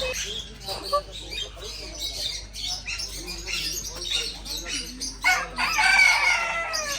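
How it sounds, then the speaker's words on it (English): A chicken crows nearby at a farm amid clucking and other animal noises, with voices faintly mixed in. "Chicken."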